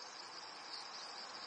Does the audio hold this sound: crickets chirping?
yes